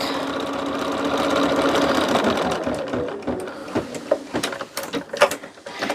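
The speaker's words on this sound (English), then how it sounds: "now our next step is we're going to stitch the chenille lines. Now I'm doing that with the pink." An embroidery machine stitches chenille lines in pink thread on pink fabric for a lumbar pillow, making a fast, steady mechanical chatter for about three seconds. Then it slows into scattered clicks and taps, close and moderately loud, with no talking.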